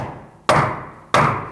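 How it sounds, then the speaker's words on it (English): Two hard hammer blows strike a stuck rear wheel hub on a 2008-2014 Mercedes-Benz C300 through a wooden block, about half a second apart, each a loud close thud with a short ringing decay. "I'm making sure I'm hitting this with a piece of wood in between"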